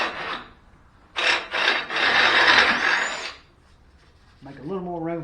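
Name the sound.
enlarging a bolt hole in wood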